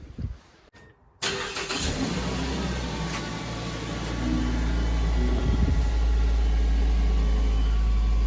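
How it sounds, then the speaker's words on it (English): A 2010 Mazda3, just fitted with a new upstream oxygen sensor after P2251 and P0134 fault codes, cranks and starts abruptly after a short quiet pause, then settles into a steady, close, low idle. "Let's give the car a start and see what happens."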